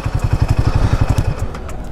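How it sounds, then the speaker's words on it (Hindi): Royal Enfield Himalayan 450 motorcycle engine thumping at low revs as the bike comes to a stop on a ride, a steady close rhythmic pulse that slows and softens toward the end. "2 मिनट यहीं बाइक रोकते हैं"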